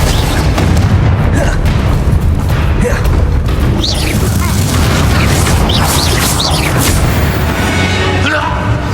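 Booming fire-spell explosions from Hogwarts Legacy, the Confringo curse, burst loudly through continuous dense battle noise, with voices speaking over the blasts.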